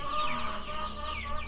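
Young egg-laying chickens cluck steadily in their pen, a close, continuous murmur of soft calls with no talk.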